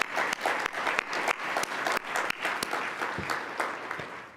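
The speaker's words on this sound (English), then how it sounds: "Let's give them a big round of applause, too." Audience applause at a neighborhood annual meeting, a room of people clapping in a lively, uneven patter with distinct individual claps standing out, fairly soft and without talk.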